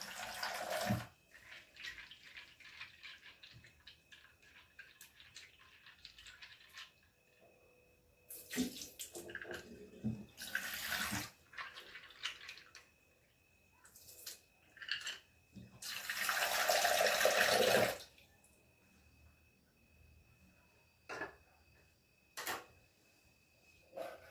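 Tap water runs in a kitchen sink while almonds are washed, starting and stopping in several bursts of different length, with a longer heavy gush near the end and small clinks between, fairly close.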